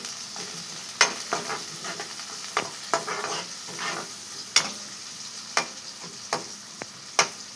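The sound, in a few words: curry leaves and green chillies frying in oil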